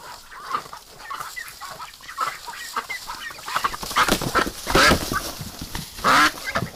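Several ducks and other farmyard fowl quack and cluck in short bursts that build in loudness toward the end, with a couple of louder calls standing out up close.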